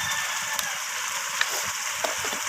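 Potatoes and chicken sautéing in a pan for a Bengali chicken curry cooked without water, giving a steady soft sizzle with a few faint clinks of stirring.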